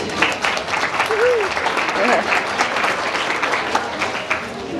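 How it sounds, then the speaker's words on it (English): A wedding expo crowd claps for Rainbow Networks, with thick, even applause from many hands held at a fairly constant level, a few voices and whoops faintly riding over it. "let's give a round of applause to Rainbow Networks"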